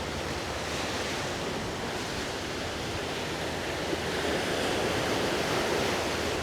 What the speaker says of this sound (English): You can see here the waves kind of crashing up on the little seawall there.